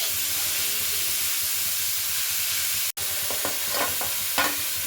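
Chopped onion, garlic, grated ginger and green chilli fry with a steady broadband sizzle and hiss in a pan for momo filling, with a brief dropout midway and soft utensil scrapes and clicks near the end.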